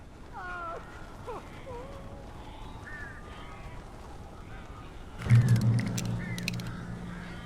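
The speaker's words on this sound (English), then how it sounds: "These birds are weird." Several crows caw in short bursts in Alan Wake Remastered against a quiet ambient backdrop, followed by a louder low rumbling flurry near the end; no one speaks.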